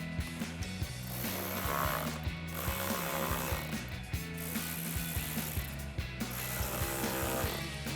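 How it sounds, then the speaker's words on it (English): A ratchet with an 8mm socket and extension tightens the four hose clamps of an AFE Super Stock intake on a Jeep Gladiator, giving close, steady, rhythmic bursts of rapid clicking, stroke after stroke, with no talk. "we're going to tighten down our 4 hose clamps with a 8mm socket, a socket extension, and a ratchet"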